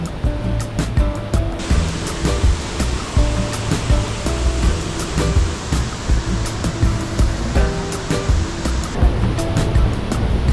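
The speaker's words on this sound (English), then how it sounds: "we've come to a really beautiful waterfall. This waterfall is called Tegenungan Waterfall." Tegenungan Waterfall near Ubud in Bali roars as a constant, loud rush of falling water, a dense broadband wash that stays steady throughout with no voices on top.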